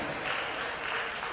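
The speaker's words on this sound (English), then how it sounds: "Please help me celebrate with my co-conqueror. Help me clap for her." An audience claps at an opening ceremony of a youth leadership summit, a steady wash of many hands blending into continuous applause at moderate distance.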